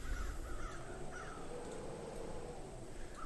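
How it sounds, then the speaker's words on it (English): Crows cawing in a point-and-click indie horror game, several harsh caws repeating over a dense, low ambient rumble, moderately distant and without speech. "Crows."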